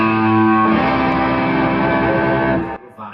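A semi-hollow electric guitar played through effects with a big, distorted tone rings out as one loud sustained chord-like wash that holds for over two seconds, then cuts off sharply.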